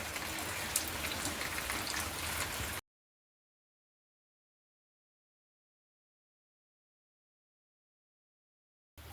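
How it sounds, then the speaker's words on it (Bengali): Rain falls in a steady hiss of drops on surfaces for a few seconds, then cuts to silence, with a brief return of the rain sound at the very end. "দুপুর থেকে এক নাগাড়ে সেই বৃষ্টি হয়ে চলেছে, কখনো ঝমঝমিয়ে আসছে আবার কখনো ঝিরিঝিরি করে।"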